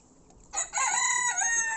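A rooster crows once at close range on a poultry breeding farm, a loud, drawn-out call that rises and then trails off against a quiet background.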